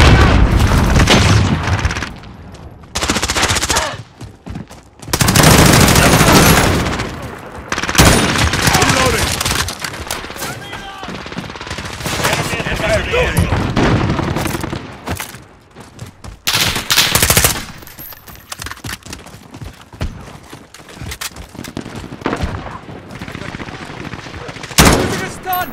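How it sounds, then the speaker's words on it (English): Sustained automatic gunfire from a sentry gun in Call of Duty: Modern Warfare, loud bursts and rolling volleys mixed with booms and other weapons, with brief radio-style voice callouts woven through the battle noise. "Sentry gun online."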